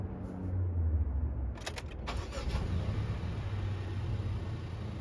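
A car engine cranks over and catches with a sharp burst around two seconds in, then settles into a steady idle, with a faint high whine above it, during a driving lesson in a manual car.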